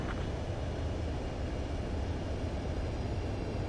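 Steady jet engine roar from an aircraft on landing approach in the flight combat video game Ace Combat 7, a continuous broadband rumble holding level throughout with no voices.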